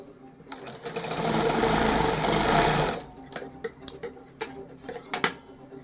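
A domestic sewing machine stitches a blouse hem in one sustained whirring run of about two seconds, then stops, followed by a string of sharp clicks and taps from handling the fabric and machine, fairly close.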